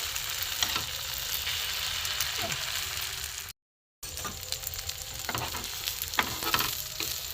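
A chicken roll fries in a pan, giving a steady close sizzle with a few soft stirring touches and a brief dropout midway.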